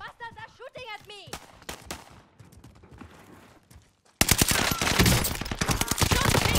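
Enemy gunfire in a Call of Duty video game: a voice talks over scattered shots at first, then a sudden, loud, dense burst of rapid automatic fire fills the final seconds.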